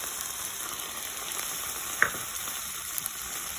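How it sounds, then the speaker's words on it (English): Onion with ginger paste and spices sautéing in hot oil, a steady close sizzle throughout with a brief stirring clink near the middle, with no voices. "I'm going to saute it again."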